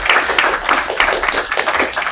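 An audience claps together in a steady, dense patter of hands, moderately loud and close, lasting about two seconds with no voices over it.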